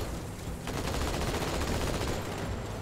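Rapid, dense gunfire from the video game Halo 2 crackles in a loud, continuous burst of overlapping shots that fills the short stretch.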